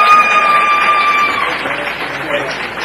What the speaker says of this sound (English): I love all these cheering clubs.